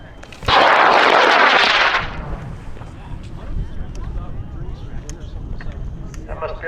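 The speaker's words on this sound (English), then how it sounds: "That must be a light rocket." A high power rocket launches with a sudden loud, dense roaring blast that lasts about a second and a half, then trails off into fainter outdoor rumble and scattered crowd noise.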